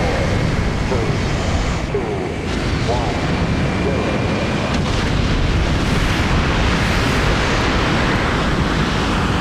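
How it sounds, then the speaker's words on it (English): A missile launching into orbit in the video game Front Mission 3, a loud continuous roaring rush of noise that fills the whole stretch with little variation. "Launching a missile into orbit?"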